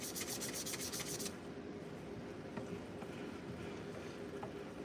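Sandpaper rubs sideways across a pen turning on a lathe between grits, giving a soft, steady, close hiss. A brief pulsing burst opens the clip, and a low motor drone carries through to the end.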